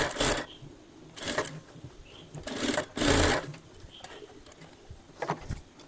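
Sewing machine running a lock stitch along frock fabric in several short bursts of fast mechanical whirring, close by, separated by brief pauses.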